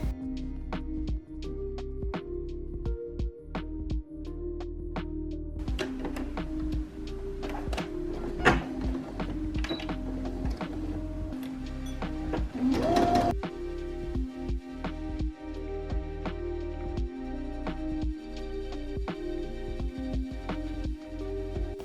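A sewing machine stitches the side seams of a child's bubble frock, running steadily with a fast mechanical ticking and brief pauses and bursts of speed, with no talking.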